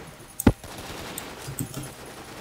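WarRock gunfire in a zombie mode: one sharp, close shot cracks out, followed by a few faint pops over low background noise.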